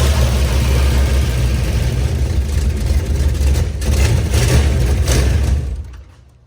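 A car engine that has just been tried for a start runs loud and steady with a low rumble for about five seconds, then dies away quickly near the end.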